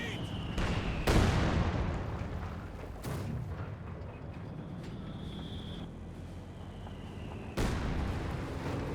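Artillery barrage landing in Company of Heroes 2, a series of heavy booming impacts, one big blast near the start and another late, over a constant rumbling battlefield din.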